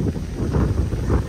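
Wind buffets the microphone beside the ocean at a beach villa in Kenya, a steady close rumbling roar that swells and eases over a short stretch with no voices.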